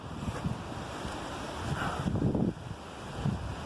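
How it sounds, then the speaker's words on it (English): An old waterfall at Worsbrough Reservoir gives off a steady broadband rush of falling water, mixed with gusty wind buffeting the microphone. No one speaks. "So we'll have a little walk down here and I'll get you a shot of this."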